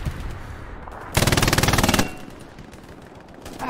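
A short, loud burst of rapid automatic gunfire from the World War II shooter game Hell Let Loose rattles for under a second amid quieter game ambience.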